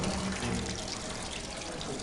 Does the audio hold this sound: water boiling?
yes